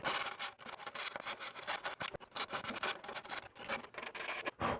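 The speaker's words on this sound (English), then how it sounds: "kind of like a file, I'll just go in here and sand all these edges until it fits." Rubbing and rasping as the edges of a servo opening are sanded in an AJ Aircraft 103-inch Slick 540 model airplane, irregular close scratchy strokes in quick succession with no talking.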